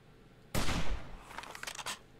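A rifle fires once in the video game 7 Days to Die: a single loud, sharp gunshot with a short crashing tail, followed by a few quieter clattering game sounds.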